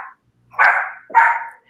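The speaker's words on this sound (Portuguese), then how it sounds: "Vocês escutaram ela latir?" A female dog gives a short yip and then two loud, close barks spaced about half a second apart, with no talk over them.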